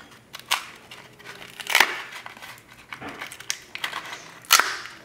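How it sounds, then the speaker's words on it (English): Knife cutting along the edge of a hard mango pit to open it, giving sharp cracking and crunching snaps spaced irregularly between quieter scraping, close and alone with no talk. "I like to cut along the edge, open it up, and see what we have inside."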